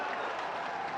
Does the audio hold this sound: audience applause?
yes